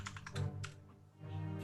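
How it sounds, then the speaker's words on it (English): Mechanical keyboard keys clacking in a quick burst of typing, close and fairly loud, then trailing into a soft low hum with a few lighter taps. "I did not hear the mechanical keyboard clackety clacking at all"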